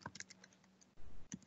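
A web address is typed on a computer keyboard in quick, faint key taps, a rapid burst of clicks followed by a brief pause and a few more presses, close and quiet.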